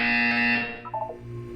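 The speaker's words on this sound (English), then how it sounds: "You will hear a buzzer." A loud electronic buzzer in Portal 2 sounds for under a second, a harsh steady tone that cuts off, followed by a few softer blips.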